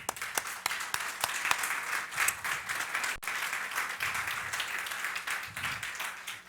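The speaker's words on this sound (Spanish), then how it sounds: "Démosle un aplauso al Señor." Applause from a church congregation during a sermon, a dense, steady wash of many hands clapping that holds at a fairly even level throughout, with a brief dip midway and no clear talk above it.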